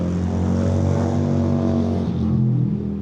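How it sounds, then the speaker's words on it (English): A motorbike drones past close by, a loud continuous engine roar that shifts in pitch as it goes by. "Let's get this motorbike to go past."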